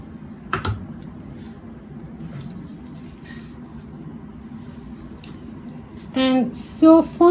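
Knife cutting into a bar of cold process soap, producing soft, quiet slicing and squishing sounds near the end after a long, faint, quiet stretch.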